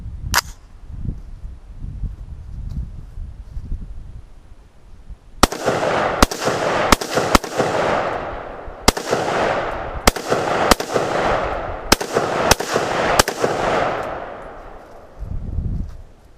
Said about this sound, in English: I'm gonna fire this AR-15